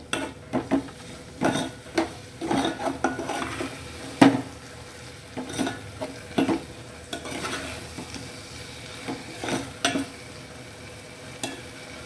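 Irregular scraping and clattering of a utensil stirring thick curd in a pan over a low, steady sizzle, with occasional sharper knocks; no voices.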